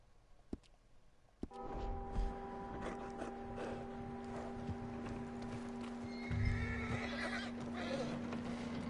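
A horse whinnies loudly in the video game Red Dead Redemption 2, then hooves clip-clop along steadily against a low ambient hum and faint background activity.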